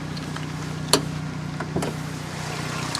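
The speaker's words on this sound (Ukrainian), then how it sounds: "двигун працює рівно, немає ніяких зайвих звуків" A 2008 Kia Ceed 1.4 CVVT petrol engine idles with a steady, low, even hum throughout, a few faint clicks and taps over the constant drone.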